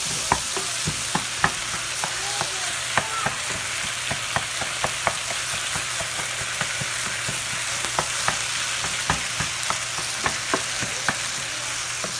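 Tater tots fry in a thin layer of oil in a pan, giving a steady close sizzle dotted with frequent sharp crackling pops and spits throughout, with no talking.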